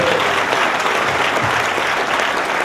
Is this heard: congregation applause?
yes